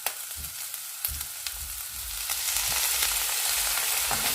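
Soy sauce poured onto stir-fried pork belly and egg noodles, a strong sizzle that swells and grows louder partway through, with low clunks and scrapes of stirring in the pan, close up and without talk.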